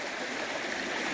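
Steady rushing water of a river running over a gravel bar in Northeast Georgia, a continuous broadband wash with no voices.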